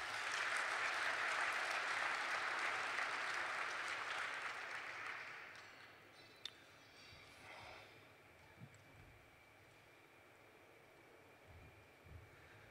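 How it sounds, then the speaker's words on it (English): A banquet audience at a chamber awards dinner applauds loudly for several seconds, then the clapping fades away into quiet room murmur with a few stray knocks. "So a round of applause for her too, please."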